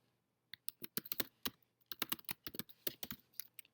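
Typing on a computer keyboard: a quick, irregular run of crisp key clicks, close and clear, in two short flurries separated by a brief pause, with no talk.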